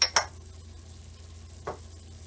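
A whisk stirring aromatics, Old Bay seasoning and cayenne pepper into a seafood bisque cooked over a wood fire, with a sharp metallic clink at the start and another brief scrape later over a quiet low hum.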